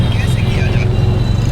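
Congested road traffic near Airoli, a loud continuous engine rumble with a faint higher hiss above it, steady and close.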